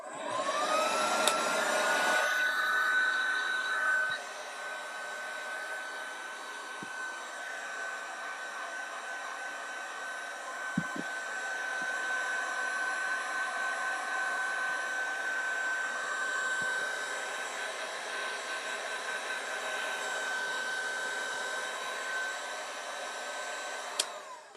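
A heat gun or hair dryer warming glued mouldings on an antique Trumeau style mirror, starting with a rising whine and then running as a steady close fan roar with a few small knocks and no talking.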